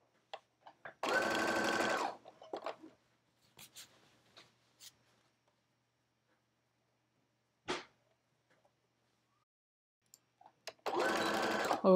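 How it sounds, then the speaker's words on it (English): A sewing machine stitches a 1920s flapper dress in two loud, steady whirring runs at the start and end, separated by quieter handling clicks and small taps. "Put the sewing machine closer to you. And let's get it going."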